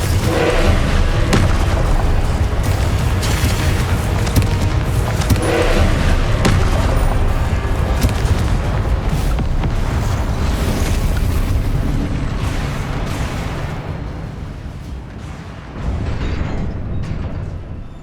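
Loud, continuous rumbling blasts from Confringo fire spells in Hogwarts Legacy, a dense barrage of booming explosions filling the scene, easing slightly near the end before another burst.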